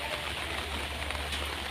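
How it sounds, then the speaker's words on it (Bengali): Steady, dense hiss of heavy rain falling continuously in Agartala, an even wash of sound with no voices. "সারাদিন বৃষ্টি কীভাবে পড়ছে দেখি, সুন্দর লাগছে"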